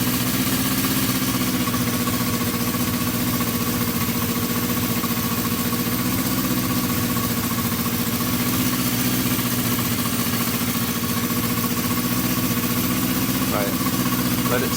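A Honda CB350 motorcycle engine idles steadily and loudly up close during carburetor balancing, a constant even drone throughout with a faint voice underneath.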